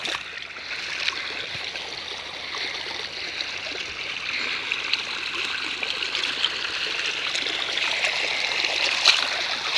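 Irrigation water running into a furrow of a silage corn field, a steady continuous trickling flow heard up close on its own, with no talking.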